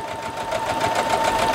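A home sewer's sewing machine stitching steadily and close, a fast even mechanical whir with a faint tonal hum and no talk.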